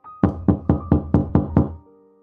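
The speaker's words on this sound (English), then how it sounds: "They knock again." Seven sharp, steady knocks rap on a wooden cottage door, loud and near, over a soft background tone that lingers after the last knock.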